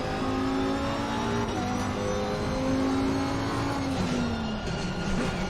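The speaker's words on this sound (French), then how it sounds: "c'est le genre de son qu'on trouve dans une vraie voiture de course" A race car engine in the Assetto Corsa Competizione racing game, played in VR, drones steadily and loud with shifting tonal whine and revs, without talk.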